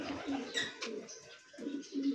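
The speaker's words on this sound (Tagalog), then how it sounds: "Dami palang ibon ni Sir Mon." Pigeons cooing inside a loft, soft repeated low coos rising and falling across the moment with some faint chirps, fairly close and continuous.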